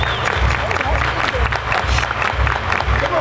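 Crowd at a baseball game clapping in a steady rhythmic beat, about two claps per second, loud and close with murmuring voices and cheers mixed in throughout.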